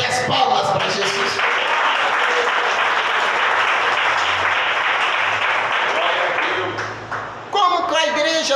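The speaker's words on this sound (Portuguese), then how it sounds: "A igreja pode bater as palmas para Jesus." Church congregation breaking into sustained, loud applause for Jesus, dense clapping that continues for several seconds before fading, with a voice speaking briefly at the end.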